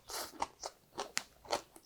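Crisp crunching bites of raw radish eaten together with grated yam, several sharp crackling chews spaced irregularly, close and fairly quiet with no talking.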